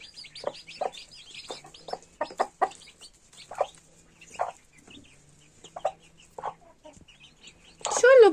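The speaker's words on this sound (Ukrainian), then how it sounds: "Маленькі кури, 11 штук" Eleven young chicks cluck and peep in scattered short calls throughout, close by, ending with a louder squawk-like burst.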